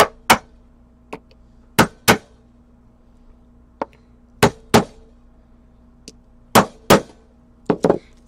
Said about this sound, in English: and then I'm just going to tap it with my hammer.